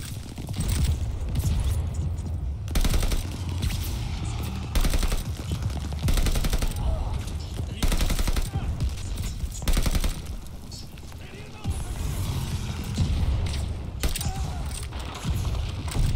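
Repeated bursts of automatic gunfire from the Call of Duty: Vanguard campaign, loud and close, with short pauses between volleys and mechanical clicks of the weapon.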